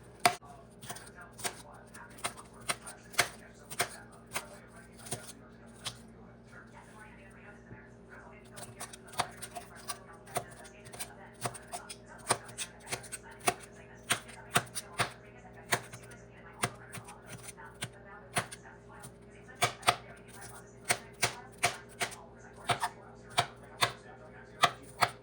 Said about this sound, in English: So let me chop up my vegetables.